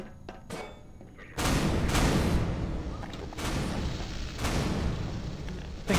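Automatic turrets firing in Half-Life 2, a quiet start with a few isolated thumps, then sustained loud rapid bursts of gunfire with brief dips, fairly close.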